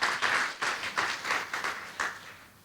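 Applause from a church congregation during a sermon, coming in a series of rhythmic bursts of clapping that swell and fade at a moderate distance.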